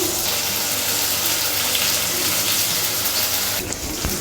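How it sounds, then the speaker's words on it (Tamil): Water pours steadily in a continuous splashing stream into cooking masala for a dry fish gravy, ending with a brief clatter. "இப்போ இந்த மசாலாவோட கொஞ்சம் தண்ணி சேர்த்துருக்கேன்."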